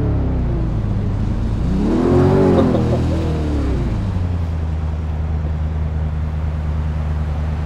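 A Mercedes AMG C63 engine in the Euro Truck Simulator game rises in a loud rev that peaks and falls back, then settles into a steady low idle drone.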